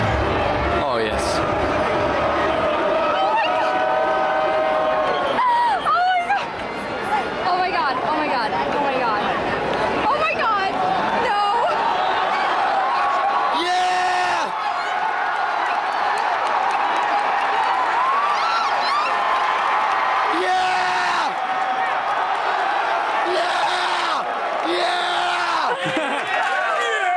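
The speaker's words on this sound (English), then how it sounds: "Part of that entire clip is the screaming guy in the stands." Loud, dense crowd screaming and cheering through an on-field college football riot, with shouts and whoops rising over a constant roar of voices from the stands.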